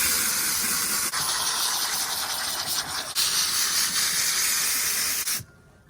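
Steady, loud water spray hisses over an Audi S4 DSG for about five seconds as it is rinsed, with one short break partway through, then cuts off abruptly near the end.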